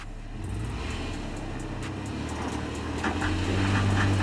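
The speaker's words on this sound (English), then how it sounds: "The climb became slightly steeper and the automobile responds by a little longer wheel slip." A 2008 Toyota FJ Cruiser climbs a slope with its wheels slipping, its engine a steady low drone that grows heavier and louder toward the end, heard close with no talking.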